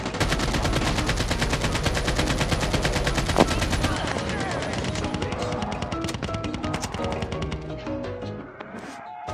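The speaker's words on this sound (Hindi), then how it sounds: "इधर गोली चली" Sustained automatic gunfire from a Call of Duty Mobile battle royale match, rapid dense bursts of shots running nearly continuously, loud and close, with a voice briefly speaking over the shooting.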